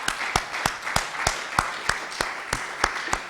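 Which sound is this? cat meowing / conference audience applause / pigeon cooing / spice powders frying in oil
conference audience applause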